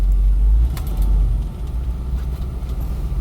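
A freshly restored 1976 Ford Bronco with a 302 EFI engine drives off with a loud, close, low rumbling engine note and road noise.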